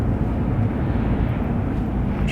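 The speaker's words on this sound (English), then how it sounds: "You can hear planes overhead." Steady broadband engine roar of airplanes passing overhead at night near a wildfire zone in Louisville, Boulder County, Colorado, heard continuously with no voices.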